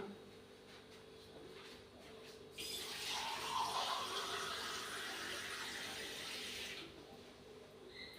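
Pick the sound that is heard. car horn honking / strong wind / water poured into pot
water poured into pot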